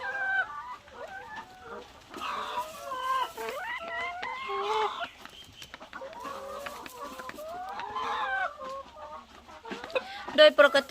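Laying hens cluck in their pen, a run of irregular close clucks and squawks with brief pauses and a few sharp calls near the end.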